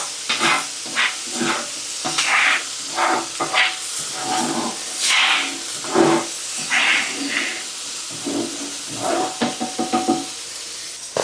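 Butter sizzles steadily on a hot griddle, a close, continuous hiss broken by small pops and the occasional knock and scrape of a utensil.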